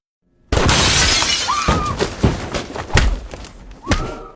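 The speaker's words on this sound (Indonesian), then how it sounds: "James yang kesal kemudian memecahkan kaca sebuah kendaraan" Car window glass shatters loudly all at once, followed by scattered tinkling shards and a few dull thuds as pieces fall.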